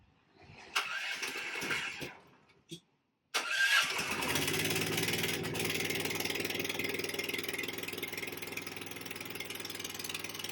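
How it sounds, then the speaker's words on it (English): Pull-start attempts on a firewood processor engine, fuel valve open, full choke and half throttle, sputter, then the loud engine catches and settles into a steady, droning idle that continues to the end. "it is a machine that starts well with the fuel valve on"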